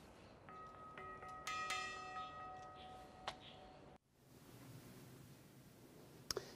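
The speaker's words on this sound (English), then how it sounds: "ringing that bell" A bell rings on the Nanjing University campus, its clear tonal strikes fairly faint and distant for a few seconds before fading into quiet outdoor ambience.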